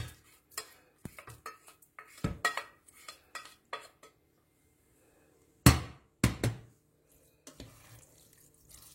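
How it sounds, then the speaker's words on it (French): Spoon scraping and clinking against a pot while spelt is stirred with vegetables, a run of irregular metallic knocks and scrapes at close range, some louder strikes midway, with no talking. "Et je mélange."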